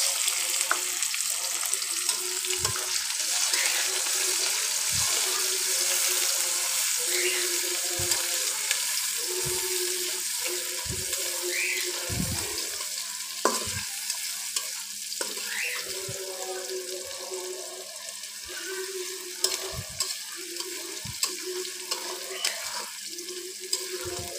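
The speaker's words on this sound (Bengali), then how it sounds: "পেঁয়াজটা আমি একটু লালচে করে ভেজে নেব" Onion fries in hot oil with spices for a duck curry, a steady loud sizzle running throughout, broken by occasional stirring knocks and scrapes in the pan.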